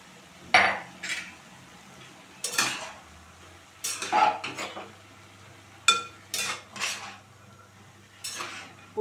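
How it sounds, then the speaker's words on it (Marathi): Vegetables for a traditional Marathi Bhogichi bhaji being stirred and sautéed in a pan over a high flame, with repeated spoon scrapes and clinks against the metal at an irregular rhythm, close and fairly loud. "पुन्हा एकदा भाजी अशी चांगली परतून घ्यायची."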